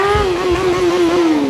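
A stunt motorcycle engine at Czech Stunt Days holds a loud, steady high rev with a slight downward drift, close and sustained, while the rider has a problem with the bike.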